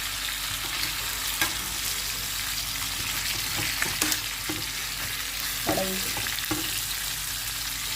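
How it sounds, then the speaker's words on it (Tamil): Fish fries in hot oil in a pan, a steady broadband sizzle running throughout with a few soft clicks and scrapes as pieces are turned, close and moderately loud with no voices. "மீன் வறுக்கிறப்ப வறுக்கிறப்ப இந்த மீன் வந்து உடையக்கூடாதுங்க"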